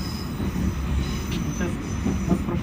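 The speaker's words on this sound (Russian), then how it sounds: "мой поезд снова едет" Moscow metro train running on the Arbatsko-Pokrovskaya line, a steady loud rumble of wheels and carriage noise heard from inside the car, with faint squeals and no talking.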